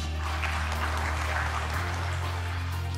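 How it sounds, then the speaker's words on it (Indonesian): An audience at an official government gathering in North Sumatra gives a few seconds of steady, even applause, a continuous dense patter of clapping over a low room hum. "kita akan juga berikan aplaus untuk Ibu Veronica."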